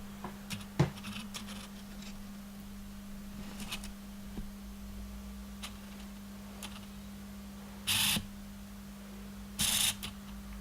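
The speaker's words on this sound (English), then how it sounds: "It makes a lot of noise, and it is unfortunately picked up by the microphones" Quiet ticks and clicks from a Canon EOS 200D (Rebel SL2) kit lens focusing, then two louder buzzing whirs of its zoom motor near the end, over a constant low hum.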